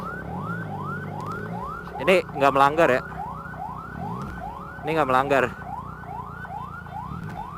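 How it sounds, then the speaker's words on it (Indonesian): An ambulance siren passes on the road, a loud, rapidly repeating rising wail close by, while a person talks in short bursts over it. "Oke, ambulans."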